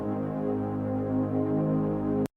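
A synth pad shaped with EQ, tremolo and sidechain holds a sustained, harmonically rich chord with gentle pulsing swells, then cuts off abruptly near the end.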